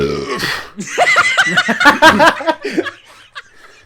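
A long, loud, close burp rolls out and breaks into chuckling and giggling laughter from podcast hosts, fading away at the end.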